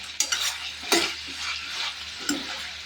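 Salt is stirred into mint pulao in a pot, with a few distinct scraping strokes of a spoon against the metal over a faint background hiss.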